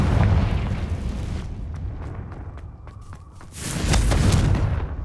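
A Confringo fire-blast spell goes off in Hogwarts Legacy with a heavy booming burst, a rumbling tail, then a second loud blast close by.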